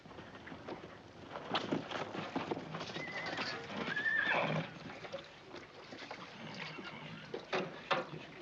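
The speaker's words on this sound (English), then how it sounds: "I need a couple of fresh horses." Horses move about near a corral in an old Western setting, with hooves clopping and shuffling, and a clear whinny rising in the middle over a steady outdoor background.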